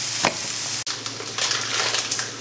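Onions sautéing in a pan for a British chicken and asparagus fricassee give a steady, close sizzle with stirring scrapes and one brief sharp knock, with no talking.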